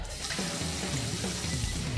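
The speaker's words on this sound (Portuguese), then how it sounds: "jogou água no herói" Water from a fire hose sprays in a continuous rushing, hissing stream, loud and steady throughout with no voices.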